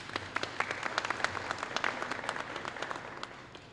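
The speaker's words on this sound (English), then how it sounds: "Let's give everyone a round of applause." Applause from the audience at a school kickoff press conference, with distinct individual claps standing out from a modest crowd, fairly quiet and tapering off toward the end.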